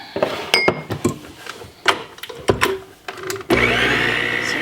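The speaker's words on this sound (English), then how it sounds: "And turn my mixer on again." Bowl and utensil clinks come first, then an electric mixer whirs on steadily, beating cake batter with a loud continuous buzz.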